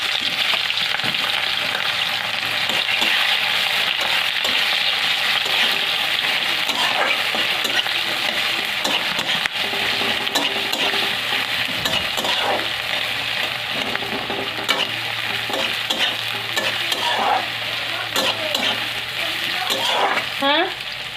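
Onion paste frying in oil with caramelized sugar for a goat meat curry, giving a loud, continuous hissing sizzle with scattered scraping stirs throughout, close up with no talk.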